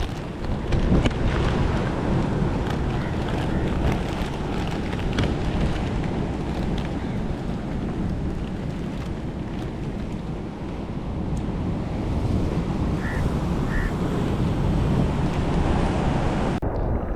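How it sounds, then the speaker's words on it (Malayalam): Strong sea waves roll onto a beach under gusting wind, a continuous loud roar and rumble with heavy wind buffeting throughout and no pauses. "നല്ല മഴക്കാരും കാറ്റുമൊക്കെ വന്നു. പിന്നെ തിരമാലകളുടെ ശക്തി ഭയങ്കരമായിട്ട് കൂടി തുടങ്ങി."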